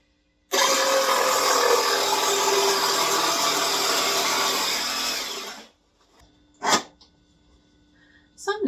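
A power sander works over wood for a small curio box in a steady, close, loud whirring burst of about five seconds. It stops abruptly, followed by quiet handling noises.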